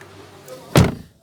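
A Ford EcoSport car door is pulled shut with one sharp, close slam that decays quickly, preceded by a moment of low voice.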